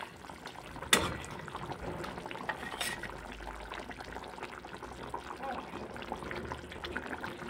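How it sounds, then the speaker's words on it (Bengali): Fried pangas fish pieces slide into simmering spicy curry gravy with potatoes, giving a sharp splash or two followed by a steady bubbling, sizzling hiss that carries on throughout. "ভেজে রাখা মাছের পিসগুলো ছেড়ে দেবো ঝোলের মধ্যে"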